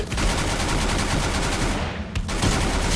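Rapid automatic gunfire in the shooter game Free Fire, a continuous dense burst of shots that breaks off briefly near the end before firing resumes, loud and close with no talk.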